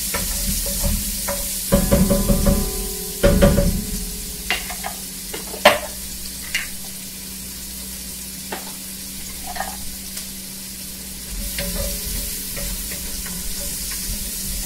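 Onions sizzling in a hot pan for spaghetti sauce, a continuous close frying hiss broken by scattered spoon scrapes and clinks, with a few louder stirring bursts early on.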